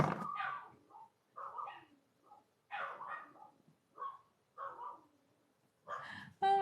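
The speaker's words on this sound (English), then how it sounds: "can you guys hear the dogs?" Dogs barking in a yard in a short series of separate, fairly clear barks with gaps between, some higher and whiny, heard over a quiet room.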